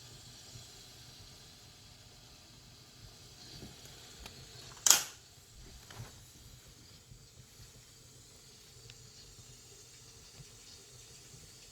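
A pressure cooker coming up to pressure gives a steady faint hiss of escaping steam with one brief louder puff midway, then a quieter hiss.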